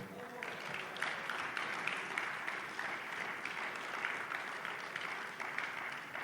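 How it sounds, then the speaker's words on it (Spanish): Audience at a conference at ITAM in Mexico applauds to welcome a speaker: a dense, steady wash of many hands clapping, fairly loud and sustained for about six seconds with no clear voices over it. "Démosle la bienvenida a nuestro expositor con un fuerte aplauso, por favor."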